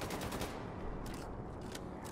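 Rapid automatic gunfire from a weapon in Wolfenstein 2: The New Colossus, bursts of shots crackling in quick succession, fairly faint and continuous across the moment.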